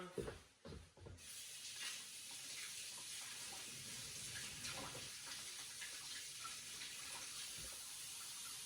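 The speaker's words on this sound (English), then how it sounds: "Rinse it off." Steady running tap water pours into a sink as eggs are rinsed, a continuous hiss after a few brief handling knocks at the start, close and moderate, no talk.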